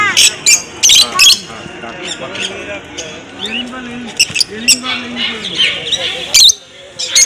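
Pet birds at the Dakshineswar pet market, including yellow-feathered and lutino birds, let out sharp, repeated squawks and chirps in bursts, close and loud, with chattering calls between them.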